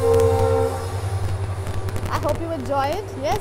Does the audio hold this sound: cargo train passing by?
yes